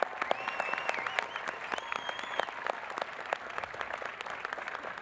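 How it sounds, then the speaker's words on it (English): Applause at a university undergraduate commencement ceremony: sustained, even clapping from a large seated crowd, moderately distant, with a few faint whistles rising above it. "Another round of applause."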